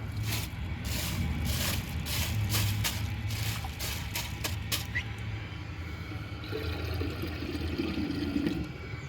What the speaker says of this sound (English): let's add some water to the bowl